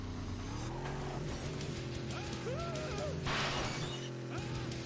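A car in the Carmageddon video game races with a steady, loud engine drone, then lands a jump and crashes with a bright burst of shattering and smashing, all without talk.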